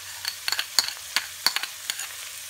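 A spoon scrapes and clinks a few times against a pan of bell peppers and onion, with a faint sizzle underneath and no talking.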